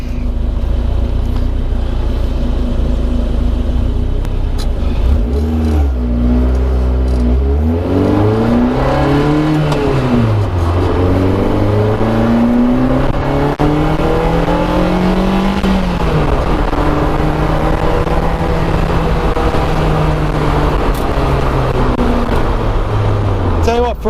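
The four-cylinder two-litre engine of a 1997 Renault Sport Spider revs up and down through several rising and falling accelerations, loud and close, as if heard from inside the cabin.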